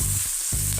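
Onions frying in a pan with salt and turmeric for cabbage chana dal, a close, steady sizzle broken by brief stirring scrapes.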